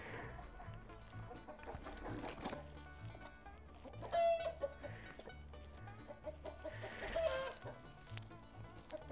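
Backyard hens and a rooster clucking and calling, several birds nearby with uneven nervous clucks and a couple of louder squawks standing out, no talk over them.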